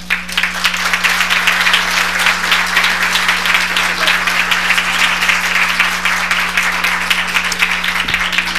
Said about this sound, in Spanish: Desde luego le brindamos un fuerte, fuerte aplauso a el doctor Juan Carlos Pérez Castro.